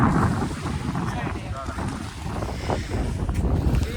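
Strong wind buffets the microphone at a full reservoir dam, a loud continuous roaring rush with gusty swells and water noise beneath.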